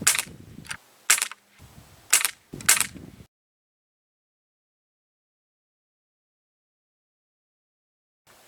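An Umarex APX air pistol firing Daisy zinc-plated steel BBs, four sharp snapping shots about a second apart, close and crisp, followed by silence and a faint final click.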